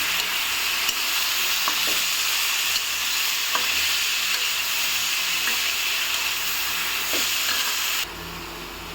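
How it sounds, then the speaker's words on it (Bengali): Steady loud sizzle of pointed gourd frying with turmeric powder on a gas stove, with occasional faint scrapes of stirring, close and continuous and dropping slightly near the end. "হলুদ গুঁড়ো দিয়ে সবগুলোকে একটু নেড়ে ছেড়ে পটলগুলো এখানে দিয়ে দেব।"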